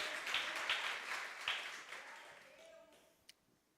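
A church congregation applauds, a loose spread of clapping that starts fairly strong and fades away over a few seconds, with a few scattered voices underneath.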